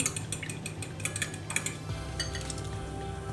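Eggs are whisked in a bowl for a börek filling of oil and poppy seeds, making quick, rhythmic clinks of utensil against the bowl, close and fairly quiet, fading into softer stirring.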